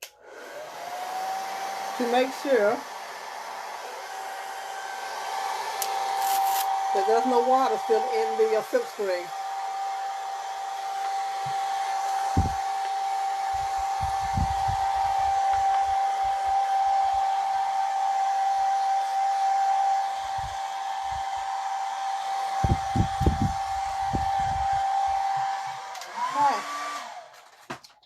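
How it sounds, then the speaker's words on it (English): A blow dryer on a cool setting drying a wet silk screen whirs loudly and steadily with a constant tonal hum for about twenty seconds, with a person talking briefly before and a few knocks and handling sounds near the end. "I'm going to hit it with my blow dryer, but I'm going to do it on a cool setting"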